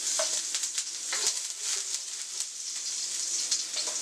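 Garlic and ginger sizzle in hot sesame oil, giving a close, steady crackling hiss with small spits and pops throughout.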